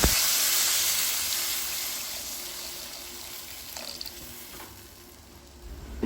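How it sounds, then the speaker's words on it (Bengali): Broth poured into a simmering cauliflower and potato curry with silver carp, a soft broadband sizzle and watery pour that slowly fades over several seconds, ending in a brief louder clatter. "সিদ্ধ হয়ে গেছে এখন আমি এর মধ্যে দিয়ে দেব পরিমাণ মতো ঝোল"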